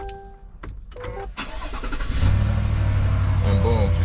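A Chevrolet truck engine cranks and catches on a push-button start, then settles into a steady, loud idle rumble close by, with someone talking over it.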